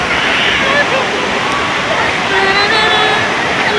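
A waterfall on Siquijor pours in a steady, loud rushing roar that fills the whole moment, with people's voices mixed faintly into the water noise.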